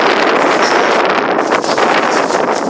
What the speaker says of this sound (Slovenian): se to piha, tudi v gozdu, ne, vseeno piha